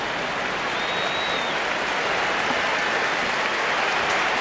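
Barcelona fans in a packed stadium give sustained, even applause to Arsenal players, among them Aubameyang, Mustafi and Nketiah, as they are substituted off during a match against Barcelona; a steady wash of clapping fills the whole stretch.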